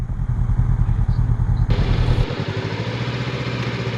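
A Honda motorcycle engine runs at a campsite, a steady low idle throbbing up close, then shifting partway through to a lighter, thinner running tone.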